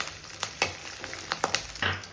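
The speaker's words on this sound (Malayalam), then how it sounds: "സോ നന്നായിട്ടൊന്ന് സ്റ്റെർ ഫ്രൈ ചെയ്യുക." Small onions stir-frying in a pan for a hot and spicy onion dish, giving a soft steady sizzle broken by a few louder scraping stirs, close and fairly quiet with no voices.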